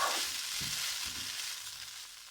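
Mung bean sprouts and rice noodles being stirred together in a pan, with a steady sizzling hiss throughout and a few soft scraping stir strokes near the start.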